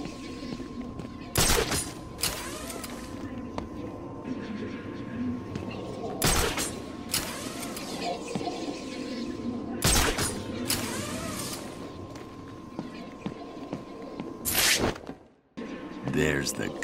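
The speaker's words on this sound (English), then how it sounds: "There's the gun. It looks like it's being controlled remotely by Joker" Remote-controlled gun firing in Batman: Arkham City gameplay, heard as several sharp, loud bursts of gunfire spread through the clip over a steady game background hum, with a voice talking throughout.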